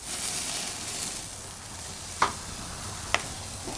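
Tomahawk steaks sear on a Slow 'N Sear travel kettle grill, giving a soft, steady sizzle broken by two sharp pops of fat.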